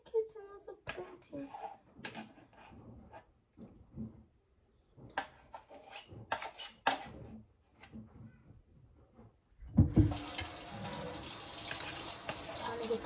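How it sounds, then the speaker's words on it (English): Water is poured from a pot of boiled dumplings into a kitchen sink, a sudden loud rushing splash near the end that follows a stretch of speech and quiet kitchen clatter. "Every time I pour the water out, I drop at least one dumpling in the sink."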